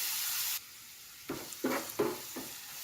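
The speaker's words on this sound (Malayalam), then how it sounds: "അരമുറി സവാള അരിഞ്ഞത് ഇട്ട് വഴറ്റാം. കൂടെ തന്നെ വെളുത്തുള്ളിയും ഉള്ളിയും കൂടെ ചതച്ചതും കൂടെ ഇട്ട് കൊടുക്കാം." Chopped onion, crushed garlic and shallots sautéing in a pan for a Kerala long bean and prawn stir fry: a close, steady sizzle that cuts off, then four quick spoon scrapes and stirs.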